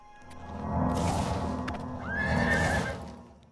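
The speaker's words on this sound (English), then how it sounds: "there's a horse over here" A horse whinnies twice in The Elder Scrolls IV: Oblivion, loud and close, with hoof clip-clops underneath and no talk.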